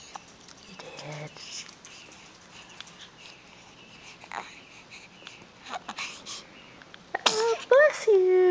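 A six-week-old baby sneezes softly indoors, a short sneeze near the start followed by quiet breathing and small fussy noises, then an adult voice speaks gently near the end.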